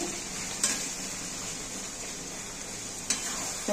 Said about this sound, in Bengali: এবার আবার একটু নেড়ে দেব।